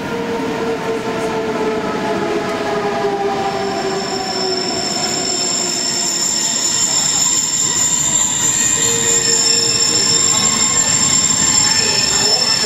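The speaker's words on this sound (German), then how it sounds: "Zur vollen Stunde treffen Züge aus allen drei Richtungen ein." Rhaetian Railway trains arrive at a station with a continuous loud metallic rumble of wheels on track and long high-pitched squeals from wheels and brakes, sustained and close throughout.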